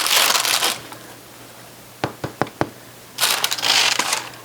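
Knuckles tap a crusty Dutch oven bread loaf, a quick cluster of four or five dry hollow knocks, with crinkly rustling of the crust and parchment before and after.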